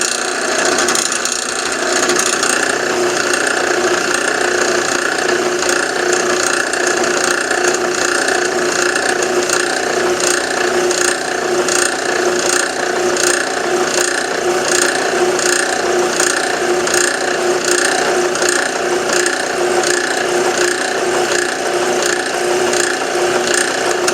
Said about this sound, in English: So let's see what happens when I try drilling this.